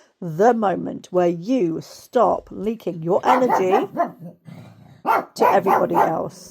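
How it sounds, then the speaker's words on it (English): A pet dog barks and yips in short bursts indoors, partly buried under a woman's steady, close speech. "I'm sorry, excuse my dog."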